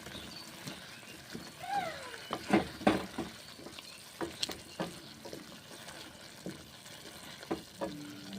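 Radish and onion greens are stirred in a pan after water, spice-rinse water and turmeric go in, with repeated scraping and clattering strokes over a soft bubbling sizzle, close and fairly quiet.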